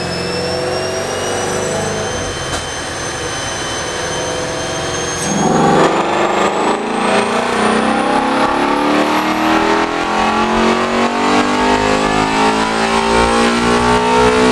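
A 2019 Ford Mustang GT350 running an E85 tune on a chassis dyno, engine held at a steady loud drone that surges into a harder, higher wide-open pull midway and keeps climbing to the end, no talking.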